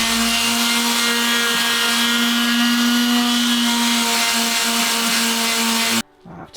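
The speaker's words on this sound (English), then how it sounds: "I've taken a pause from sanding." Steady droning power sander on a DIY van shower build, running loud and continuous with a strong hum before cutting off abruptly near the end.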